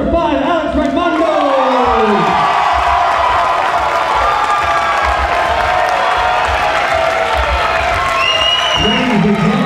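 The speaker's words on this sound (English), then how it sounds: "Let's give him a round of applause and gentlemen" A crowd at a men's open-class bodybuilding awards show roars with loud, sustained cheering, shouting and clapping that fills the whole stretch without a break.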